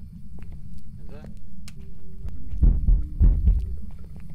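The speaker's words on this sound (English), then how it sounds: "I got a heartbeat." In the Phasmophobia ghost-hunting game, a ghost's heartbeat sounds as a few deep, muffled thumps in pairs, with a voice speaking briefly just before.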